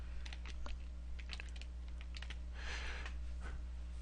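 Typing on a computer keyboard, scattered light clicks and short bursts of keystrokes close by, fairly quiet, with no speech.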